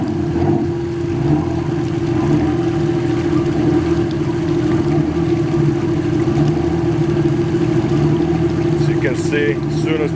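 Twin marine engines of a 1979 Bertram 38 Convertible Mark III yacht idling after a cold start on a chilly January morning, a loud, steady low droning rumble throughout, close by.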